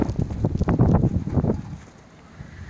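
Wind gusting through snow in the aftermath of the 2018 blizzard, short buffeting blasts against the microphone that ease into a quieter, steady rush.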